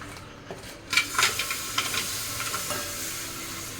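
Jaggery syrup sizzles in a home kitchen pan while it is stirred, with several scraping strokes over a steady, close hiss of bubbling.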